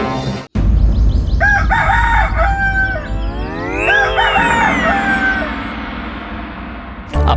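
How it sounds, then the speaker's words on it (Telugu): A rooster lets out a loud, long crow that rises and falls close by. A sharp thump comes before it, and a steady background hum runs under it. "ఈ కోడి నిద్ర భంగం కలిగిస్తోంది"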